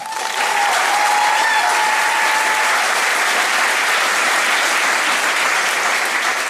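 A graduation crowd applauds after the valedictorians are named, loud, sustained clapping from a large audience that swells quickly and holds steady, with faint voices mixed in.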